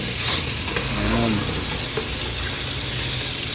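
Ginger and onion sauté in a pan for chicken adobo in coconut milk, giving a steady, loud, close sizzle with faint stirring noises throughout.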